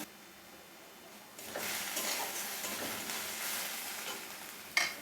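Onions frying in a pan for a prawn dopiaza swell into a bright hissing sizzle after a quiet start, steady and close, ending with a short metallic clink.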